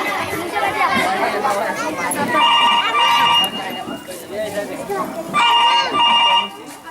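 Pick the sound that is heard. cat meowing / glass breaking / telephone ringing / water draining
telephone ringing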